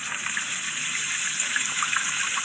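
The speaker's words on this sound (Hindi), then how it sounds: "अब हम क्या करते हैं, हम सिंपली इसके अंदर पानी डालते हैं।" Water pours steadily into a container, a continuous close gushing splash with no breaks and no talk.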